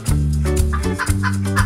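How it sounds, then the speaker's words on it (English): A chicken clucks in a quick series of short notes, close and clear over a steady musical backing in a children's farm-animal song. "Chicken."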